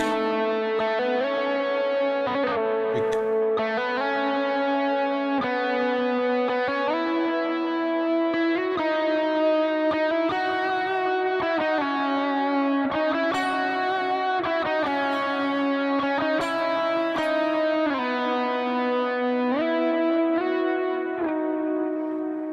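Electric guitar played through effects with distortion, echo and reverb, picking melodic chord-tone lines ornamented with hammer-ons and slides, steady and loud throughout with no talking.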